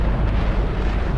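Missile launch explosion in the Call of Duty Ghosts video game, a sustained, loud, deep rumbling roar that fills the whole moment without letup.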